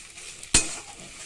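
Cooked kochu shak, taro leaves simmered with ground and whole chickpea dal, pours out of the cooking pot in one short, wet splash that fades quickly into faint kitchen background.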